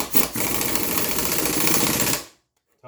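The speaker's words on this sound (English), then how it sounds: "That's a special hammering device that I have." A custom hammering tool works a rear strut during a 2007 Honda CR-V repair, a dense rapid rattling burst lasting about two seconds before cutting off, close and loud, with a brief pause early on.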